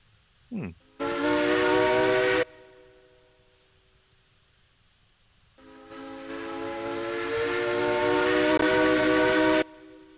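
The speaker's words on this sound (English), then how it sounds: "That's an okay whistle." Steam train whistle from the Railroads Online video game: a brief chirp, then a loud blast of about a second and a half, a pause, and a longer swelling blast of roughly four seconds, with no voices over it.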